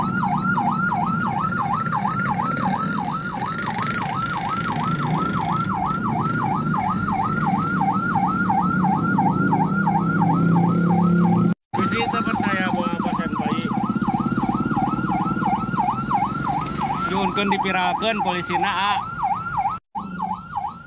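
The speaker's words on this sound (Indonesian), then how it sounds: "mengadang ambulans yang tengah mencoba membelah kemacetan Jalan Raya Cikembar, Sukabumi" An ambulance siren wails continuously and loudly as the vehicle tries to push through a traffic jam on Jalan Raya Cikembar in Sukabumi, with its rapid rising and falling tone steady throughout and voices talking over it.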